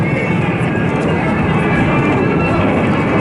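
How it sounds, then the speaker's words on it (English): Steady loud roar of a Hercules aircraft's engines as it powers up and accelerates down the runway for takeoff at an airshow, a dense continuous rumble heard from a distance. "the Hercules will very shortly put the gas on, basically, and will accelerate down the runway for a takeoff"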